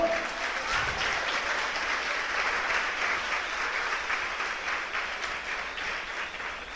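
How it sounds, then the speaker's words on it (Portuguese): A church congregation applauds during a sermon, a steady, dense wash of many hands clapping that holds evenly from start to finish with no voices on top. "Você pode aplaudir o Senhor?"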